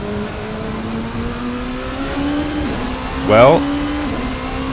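A Rebellion R13 LMP prototype racing car in Assetto Corsa, its engine a steady droning tone that rises gradually, with a brief swelling whoosh near the end. Someone talks over it.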